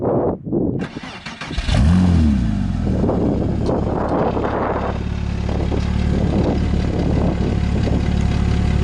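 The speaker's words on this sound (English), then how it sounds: "Zach's going to go ahead and fire the car up. Hear it at idle." A Porsche Cayman S fitted with a Circuit Werks aftermarket exhaust cranks and fires up, then settles into a steady, close, loud idle with a low burbling rumble and slight fluctuations.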